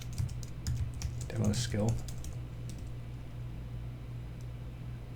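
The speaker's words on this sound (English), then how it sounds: "Type the name of the skill." Keys clatter on a computer keyboard as a skill name is typed, a quick close burst of keystrokes in the first two seconds, with a voice speaking briefly over it.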